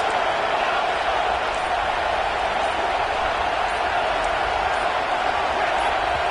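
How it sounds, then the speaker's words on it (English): A dense, steady roar from a large crowd at a Notre Dame vs Duke college football game fills the whole stretch, loud and continuous with no pauses, like a packed stadium in full voice. "Listen to this crowd just shaking the girders of this place"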